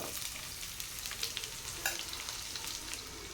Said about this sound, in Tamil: பூண்டு நல்லா ஆயிலே வதக்கி விட்டுருங்க